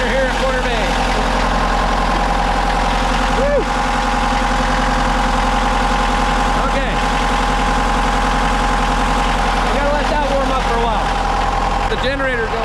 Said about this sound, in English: we've got this great generator here at Corner Bay